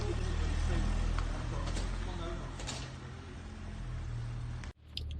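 A 2007 Honda Jazz 1.4 i-DSI Sport CVT drives along a road in Milnthorpe, its steady engine and road rumble heard from inside the cabin, cutting off abruptly near the end.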